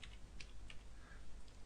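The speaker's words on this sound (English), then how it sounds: "Just start to type on the keyboard" Quiet, close clicks of keys being typed on a computer keyboard, a few scattered taps over steady room hiss.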